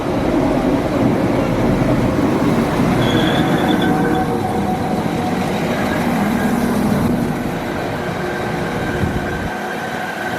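A train pulls in on the North Wales Coast Line with a loud, steady rail roar, wheel squeal and faint high screeching that eases slightly toward the end.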